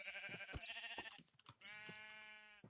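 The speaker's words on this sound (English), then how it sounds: "So many sheep." Sheep in the Minecraft video game bleat twice in close succession, loud nasal wavering calls with no talk over them.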